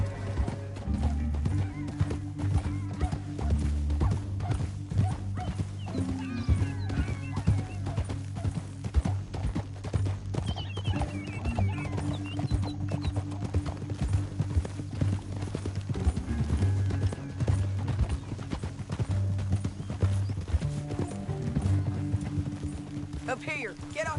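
Horse hooves beat in a rapid, rhythmic clip-clop while riding through a canyon in the Red Dead Redemption 2 video game, mixed under game music and spoken character dialogue.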